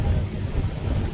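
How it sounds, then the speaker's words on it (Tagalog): Strong wind at sea off Burias Island roars steadily and loudly with the rumble of heavy waves, a continuous, close blustery wash with no voices. "Lakas ng alon, lakas ng hangin."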